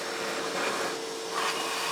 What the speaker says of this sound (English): So let's get those chips vacuumed up and get these heads cleaned